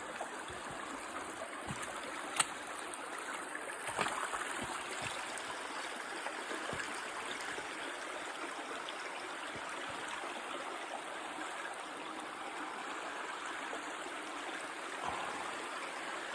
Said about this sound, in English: I think I'm going to try to cross the river here.